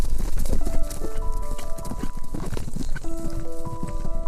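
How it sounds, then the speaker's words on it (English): A horse's hooves clip-clop in quick, irregular beats under a faint melodic background, moderately loud and steady throughout. "she heard the sound of a galloping horse in the distance"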